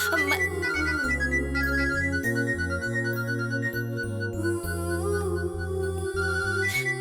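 A melodic phone ringtone plays continuously, a bright stepping tune with a steady beat, loud and close with no talking.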